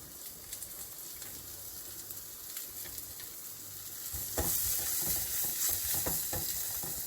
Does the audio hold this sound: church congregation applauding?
no